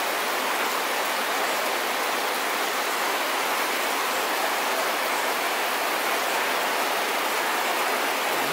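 Near-tropical downpour outside a sanatorium room in Brest Region, Belarus, during a storm: a constant, loud, even roar of heavy rain hitting surfaces, steady throughout and without voices.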